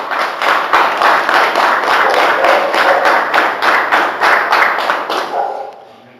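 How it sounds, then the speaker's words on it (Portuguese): A congregation at a church youth service bursts into applause, with rhythmic unison clapping beating at a steady pulse, loud and close, then quickly dying away to quiet. "Pode aplaudir aí."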